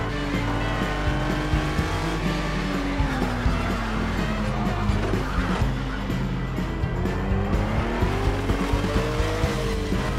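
An Acura NSX GT3 race car in Project CARS 2 on a cloudy day, its engine revving loud and steady with shifting pitch and bursts of tire squeal, continuous and close throughout.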